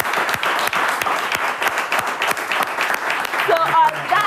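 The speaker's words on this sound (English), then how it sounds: "I think we should give them a big round of applause" An audience applauds at a talk-show style event, with steady, close, dense clapping throughout and a voice speaking briefly near the end.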